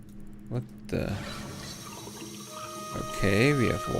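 In a puzzle video game, a sink runs with a gentle pouring, trickling stream of water, heard under and between a person's speech.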